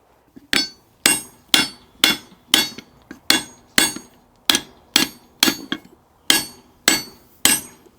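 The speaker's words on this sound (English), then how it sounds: "Big hammer and more heat." Heavy blows from a big hammer ring out one after another, about fourteen sharp metallic strikes at a steady, unhurried pace, each decaying briefly before the next, loosening a seized tractor track rod thread.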